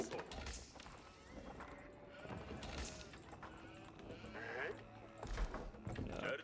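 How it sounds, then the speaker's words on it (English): Sheep bleat in an Age of Empires IV game soundscape amid hoofbeats and other animal noises, with a person talking over it throughout. "I think I saw a sheep over there."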